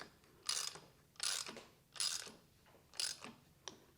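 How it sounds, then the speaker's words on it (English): Hand ratchet tightening a prop nut while replacing the skeg on a Power-Pole MOVE: four or five quick clicking bursts at a steady rhythm, close up and fairly quiet. "go ahead and finish it off with the ratchet"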